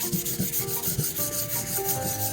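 Fine-grit sandpaper rubbing across a waxed wooden table top, a steady rasping scrub in quick back-and-forth strokes, close and continuous with no voices.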